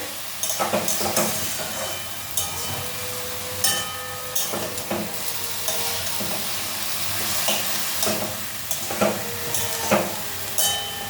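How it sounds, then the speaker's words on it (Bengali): Red amaranth greens (lal shak) are stirred in a pan over a continuous sizzling hiss, with repeated clanks and scrapes of the spatula against the metal. No one speaks. "এখন এইভাবে ভালো করে একটু নাড়াচাড়া করে নেবে"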